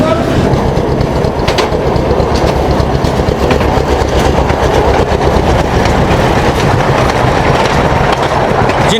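Toy train at a tribal village attraction in Mumbai, its wheels rattling and clacking along the rails in a steady, loud, continuous rumble, with faint voices in the background.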